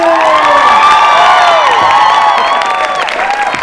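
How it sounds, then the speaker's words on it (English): A large anniversary-celebration audience cheers and whoops loudly for an introduced guest, a dense sustained roar of excited voices and shouts with some clapping mixed in. "please can we give a massive round of applause to Radha Sharani!"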